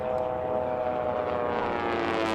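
A loud, steady propeller-engine drone roars throughout, a buzzing racing biplane with rising pitch as it races close by around a pylon at an air race.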